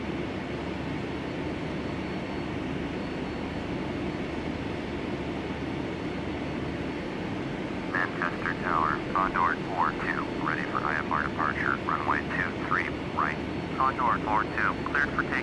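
A QualityWings 757-300 in a flight simulator rolls for takeoff at runway 23 right, giving a steady broadband engine roar throughout, with a radio-style voice talking over it during the second half.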